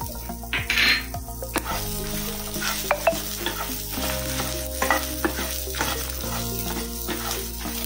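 Chopped ginger and onion frying in a pan for a dry red coconut chutney: a steady close sizzle with spatula scrapes and a few metallic clinks, loudest near the start.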